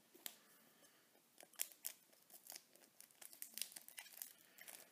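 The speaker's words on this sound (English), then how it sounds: "let me get the scissors out" Quiet, close snipping and crinkling of trading card packaging, scissors cutting in short irregular bursts with rustling between cuts.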